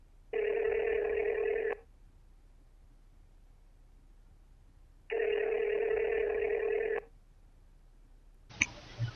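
A telephone ringing in two long, evenly spaced electronic rings, clear and close, with a few clicks afterward.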